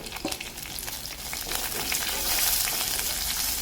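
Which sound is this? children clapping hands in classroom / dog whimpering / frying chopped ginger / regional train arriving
frying chopped ginger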